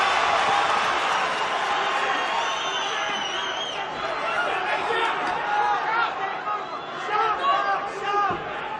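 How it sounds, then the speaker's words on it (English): An arena crowd roars and chatters loudly through a UFC heavyweight bout between Miocic and Hunt, a dense sustained swell of voices that surges and dips, with a commentator talking over it. "The crowd's going nuts."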